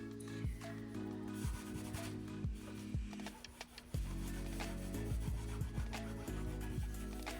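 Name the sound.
scrubbing oil off a dried acrylic pour painting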